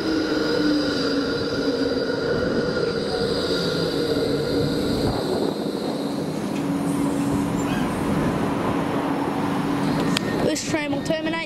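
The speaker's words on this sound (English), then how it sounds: "86 tram coming in" An 86 tram in Docklands rumbles and hums as it rolls into a stop, with a steady mechanical whine and a few squeaks near the end.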